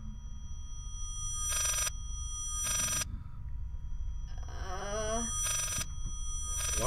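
Old telephone bell ringing in the horror game Layers of Fear, repeated sharp metallic bursts at a steady interval over a low droning background, with someone speaking briefly between rings.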